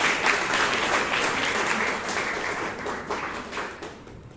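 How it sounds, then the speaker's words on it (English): Toastmasters club audience in Bangalore applauding their General Evaluator, a dense, steady round of clapping that holds for several seconds and tapers slightly near the end. "Let us all give a huge round of applause to our General Evaluator."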